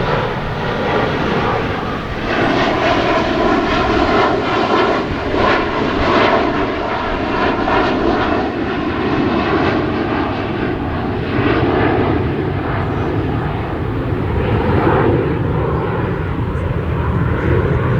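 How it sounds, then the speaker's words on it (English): A fixed-wing propeller airplane flies overhead, its engine drone loud and steady for a long stretch and slowly shifting in pitch as it passes, with no other sound above it. "plane is flying over"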